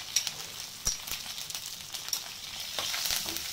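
Curry leaves and asafoetida dropped into hot tempering oil for ven pongal, a close, bright sizzle with sharp pops and crackles scattered over a frying hiss that swells toward the end, with no talking.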